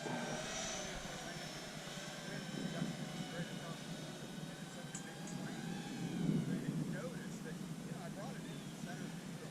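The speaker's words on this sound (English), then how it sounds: "Drop the gears. Landing from the right." A Freewing F-22 Raptor 90mm electric ducted-fan RC jet comes in to land, its steady whooshing whine holding throughout with harmonic tones that shift in pitch as it passes, while people talk over it.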